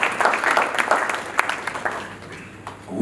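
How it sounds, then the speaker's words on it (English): Audience applause fills a corporate awards ceremony, a dense burst of clapping that is loud at first and gradually thins out toward the end. "Round of applause."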